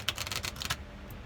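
A deck of oracle cards being shuffled by hand, giving a quick run of soft papery riffles and flicks for about three-quarters of a second, close and fairly quiet, then settling into near silence.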